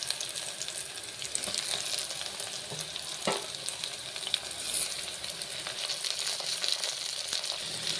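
Snails fry in a pan for a snail roast, giving off a steady close sizzle with faint stirring clinks and scrapes and no voices.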